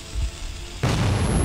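A heavy explosion in the Metro 2033 video game breaks in suddenly after a quieter stretch, a loud broadband blast that holds its full roar to the end.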